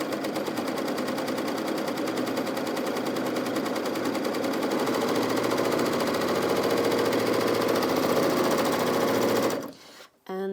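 A Bernette b68 airlock overlocker runs continuously through two pieces of cotton, a fast, loud, even mechanical whir and rapid ticking of stitches that stops abruptly near the end, followed by a brief click and rustle.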